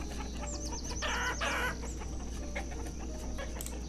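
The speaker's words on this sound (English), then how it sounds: "I don't know if you guys know this, but I bought chickens." Chickens clucking and a rooster-like call in the Banished city-building game, a rhythmic run of repeated clucks rising over steady farm ambience, fairly loud and close with no talking.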